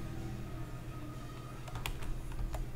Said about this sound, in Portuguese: o teclado aqui tá meio bugado